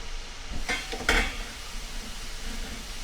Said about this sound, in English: I take my stirring rod and I give it a stir.